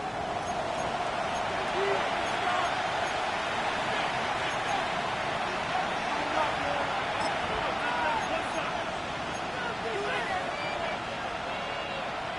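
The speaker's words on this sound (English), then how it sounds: "This crowd into it now as we get to third down." Simulated stadium crowd noise from an EA Sports NFL football game on kickoff weekend, a steady broad roar with scattered cheers and babble that swells on third down, loud and continuous throughout.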